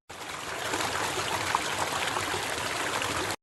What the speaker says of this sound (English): When a river flows over a cliff, it creates a waterfall.